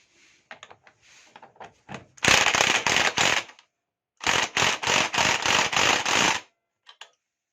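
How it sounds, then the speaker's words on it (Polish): A hammer taps sharply on a metal nut on a scooter's rear wheel in two quick bursts of repeated strikes, loud and close, with a few softer clicks before and after. "Ja dokręcę to lekko młotkiem."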